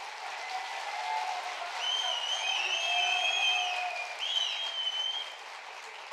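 A crowd applauds at a political party leader's press statement, sustained dense clapping mixed with cheers and whistles, loud and continuous for several seconds.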